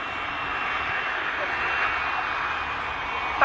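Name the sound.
aircraft landing during an air show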